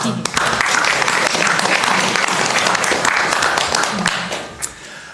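Sustained applause fills a council chamber at a city council meeting, many hands clapping steadily and loudly for several seconds before tapering off near the end.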